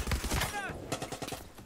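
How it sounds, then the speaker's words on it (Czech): Gunfire during a Far Cry 6 co-op session: a dense, rapid burst of shots that breaks into scattered reports, heard alongside other game sounds. "A mě tady někdo střílí strašně."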